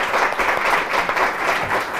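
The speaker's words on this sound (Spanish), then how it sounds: "les pido un fuerte aplauso, por favor, para el profesor" Brief, moderately loud applause from a lecture audience for a professor, a dense even patter of many hands clapping for about two seconds.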